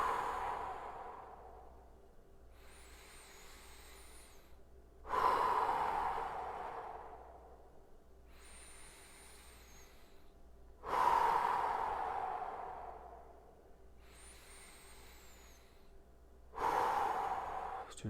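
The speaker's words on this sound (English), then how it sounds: "Exhale. Inhale. Exhale. Inhale." During a home workout, a person breathes in and out slowly and audibly at close range, with deep airy breaths rising and falling in a regular cycle about every five to six seconds.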